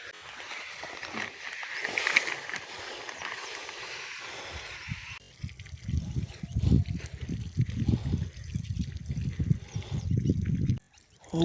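Water escaping from a drip irrigation line chewed apart by stray dogs in a mango and jamun orchard, trickling and splashing steadily at close range, with a brief hiss early on and louder gurgling bursts later.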